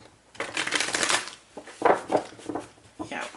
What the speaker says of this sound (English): This deck can be a real pain for me to shuffle.